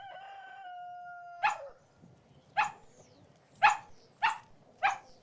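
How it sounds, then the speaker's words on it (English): A brief held tone gives way to five sharp, close dog barks spaced at uneven intervals. "No, kids, that's how dogs bark."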